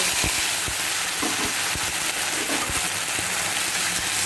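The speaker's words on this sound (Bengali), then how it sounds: "তেলটা প্রায় গরম হয়ে গেছে আমি এবার ঢ্যাঁড়সগুলোকে দিয়ে ভেজে নেব" Okra frying in hot oil, a dense, steady crackling sizzle that fills the space at close range, with faint stirring ticks underneath and no voices.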